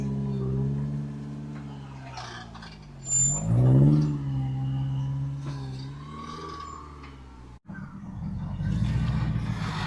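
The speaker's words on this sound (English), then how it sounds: "Landon's driving his dad's buggy" A rock crawling buggy engine on a Grand Junction trail hums with a low, steady harmonic drone, then revs up in a rising, wavering surge before settling. There is a brief dropout, then a rougher rumble.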